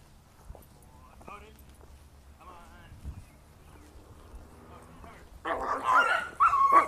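A German Shepherd attacks a pit bull, with barks, yips and whimpers rising into a loud burst of snarling near the end, under people's talk.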